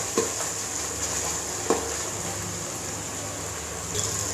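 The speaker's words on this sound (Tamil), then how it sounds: "5 காடை நல்லா வதங்கணும்." Quail fries in oil in a pan for a curry, making a steady, fairly quiet hiss with a couple of brief stirring knocks.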